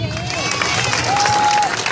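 A crowd of young people applauds and cheers around a bonfire gathering, continuous clapping with whistles and scattered voices mixed in throughout.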